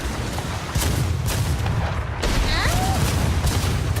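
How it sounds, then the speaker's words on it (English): Cannon fire hits a ship in a video game, with deep booms and rumbling blasts in a dense, noisy mix, a whistling streak among them, while players talk over it. "Oh, they're firing, Hold on, they're firing. They are shooting at us."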